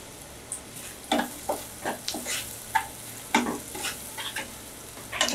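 Slit green chilies and chopped garlic fry gently in a pan, a low background sizzle punctuated by a series of spatula scrapes and taps at irregular intervals, close and unaccompanied by speech.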